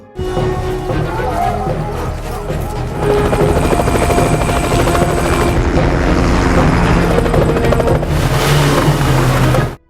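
A helicopter's rotor thumps loudly and continuously overhead, growing heavier partway through, with a brief muffled crash near the end.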